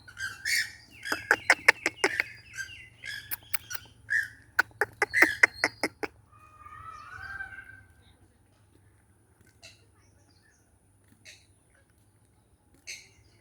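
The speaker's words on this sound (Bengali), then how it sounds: "এই যে একটা পাখি" Bursts of sharp, rapid bird squawks and chirps ring out close for several seconds, then scattered faint calls follow in a quiet space.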